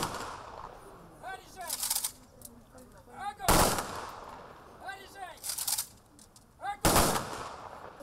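Ceremonial gunfire salute at the opening of a war memorial to Great Patriotic War veterans in a village, with sharp broadband volleys cracking out at intervals between stretches of outdoor crowd murmur and voices.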